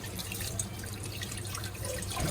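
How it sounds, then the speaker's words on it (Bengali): Tilapia being washed in water, a soft, steady splashing and trickling with faint drips, quiet and continuous with no talk. "এবার এই মাছগুলোকে ধুয়ে নিতে হবে"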